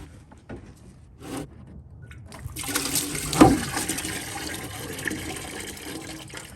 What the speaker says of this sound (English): there's still some coolant in here and it's going to come out.